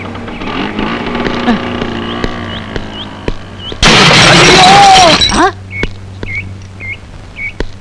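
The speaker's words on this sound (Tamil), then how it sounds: "இப்ப ஸ்கூட்டர்ல போனானே அவன் ஆக்சிடென்ட் ஆகி செத்து போயிட்டான்" A sudden loud crash of a scooter collision bursts out for over a second, over engine hum and light background music.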